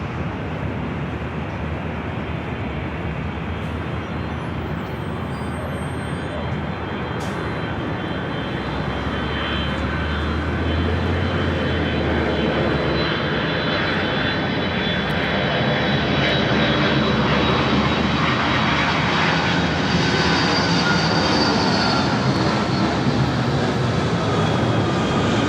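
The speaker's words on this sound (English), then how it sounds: "Our next arrival is Delta Airlines 321 coming in from Boston on the 757-200" Delta Airlines Boeing 757-200 arriving at Los Angeles airport from Boston, a loud steady jet engine roar that slowly builds as the airliner approaches, with no talk.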